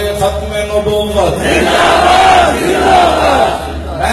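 A large crowd chants the religious slogan Tajdar-e-Khatm-e-Nabuwat in unison at a gathering, a loud, massed roar of voices rising and swelling in repeated waves.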